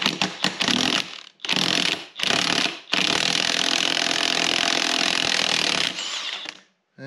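A transfer case yoke retaining nut on a Borg Warner 1356 breaks loose under a 32 mm socket on an impact gun, loud and close, with several short rattling bursts and then one long sustained hammering run, no talking.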